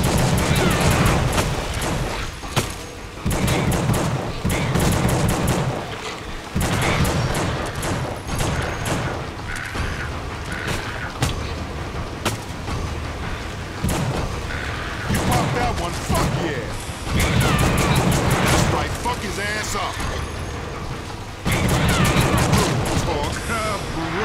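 Gunfire from the horror action video game The Suffering, with repeated loud bursts of shots and booming impacts spread through the stretch, dense and close, at times overlapping with game noise.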